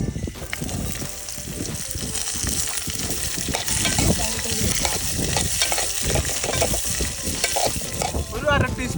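Chopped beans and onion sauté in a pan with green chili and curry leaves, a steady loud sizzle with repeated stirring scrapes running throughout, close and without talk.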